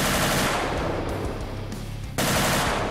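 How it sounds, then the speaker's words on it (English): Sustained automatic gunfire and rapid shots in the Ancient Warfare 3 video game during a World War II bridge fortress defense battle, loud and continuous with a brief dip before bursting back in at full intensity. "Oh god, we're still taking shots."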